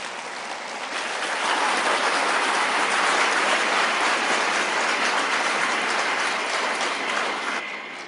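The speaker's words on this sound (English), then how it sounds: "Can we give them a round of applause?" An awards-ceremony crowd gives award finalists a round of applause, with dense, even clapping that swells after the first second, holds steady, then eases slightly at the end.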